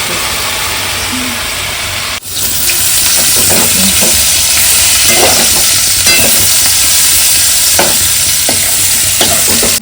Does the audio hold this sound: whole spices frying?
yes